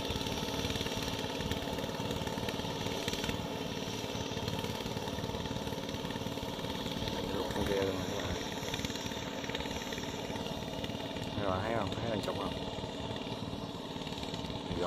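A floating excavator crane, buoyed on drums, digs out a shrimp pond on a farm in An Biên. Its diesel engine drones steadily and loudly up close, with a rough, continuous mechanical clatter.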